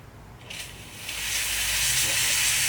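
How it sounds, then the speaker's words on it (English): A Gevi espresso machine's steam wand is opened to purge steam and clean its inner pipe, giving a faint start and then a strong, steady close hiss that builds and holds to the end. "we open again the steam to release some steam and clean"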